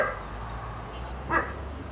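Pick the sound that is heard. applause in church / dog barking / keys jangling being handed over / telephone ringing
dog barking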